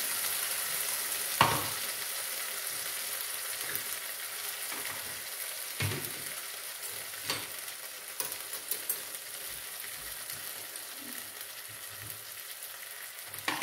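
Spices sizzling in a hot pan with a constant bright hiss, stirred now and then with a few sharp scrapes and clinks, close, with no talk.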